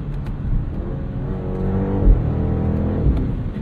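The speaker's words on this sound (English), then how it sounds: "it's still a big V8 Beamer" A BMW V8 car engine accelerates hard nearby, a deep, steady growl rising in pitch through several seconds, with no voices.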